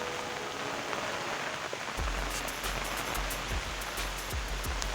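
Heavy rain pours steadily during Cyclone Remal in Karimganj, a dense close hiss of drops on surfaces with gusting wind noise, growing louder and rougher after the first couple of seconds, with no talking.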